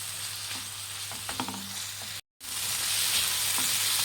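Onions and tomatoes roasting on a hot tawa over a medium flame for street-style chicken tawa fry, giving a steady close sizzle with a few scraping stirs and a brief dropout partway through.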